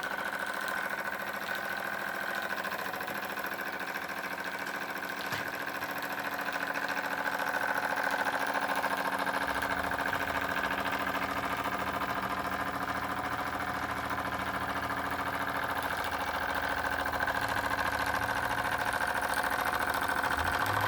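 A Wilesco D20 toy steam engine, electrically heated 110V model with a built-in voltage reducer and a big flywheel, runs with a steady, even mechanical whir and hum throughout, close and unbroken, with no talking.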